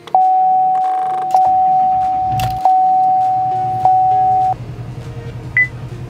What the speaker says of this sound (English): no more of that beeping. I hate that noise so much.